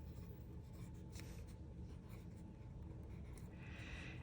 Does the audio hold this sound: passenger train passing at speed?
no